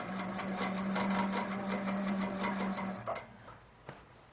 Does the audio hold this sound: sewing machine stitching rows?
yes